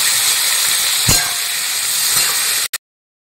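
Eggplant, chopped onion, chili and coriander leaves hitting hot fish oil in a pan, a loud continuous sizzling hiss that runs steadily and then cuts off abruptly near the end.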